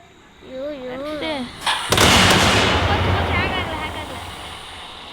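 A Diwali firecracker bursts with a sharp bang followed by a long hissing, crackling rush, close and loud, with people talking before and after.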